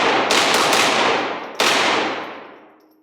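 Two sharp cracks from a POF Rebel .22LR pistol fired at a target, each shot followed by a long decaying echo, loud and close with no talk.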